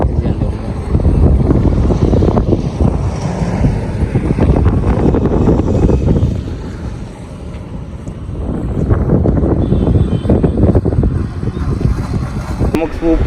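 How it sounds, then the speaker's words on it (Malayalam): Strong wind buffeting the microphone while riding a Yamaha RX100 motorcycle on a trip to Kodaikanal, a loud continuous roar that dips briefly midway, with the rider talking beneath it. "നല്ല കാറ്റ് കേട്ടോ."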